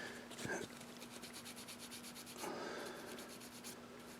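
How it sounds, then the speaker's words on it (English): A light, barely abrasive pad sweeps across a hardwax-finished wood surface in steady, soft rubbing strokes, close and quiet, with a brief scrape near the start and a firmer pass partway through. "I'm just going to run this across the whole surface. This is technically sanding, but it's not very abrasive."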